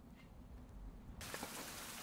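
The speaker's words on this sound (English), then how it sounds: "And raining again." Rain pours down steadily in a survival video game, a soft broadband hiss that swells abruptly louder partway through, with no talk over it.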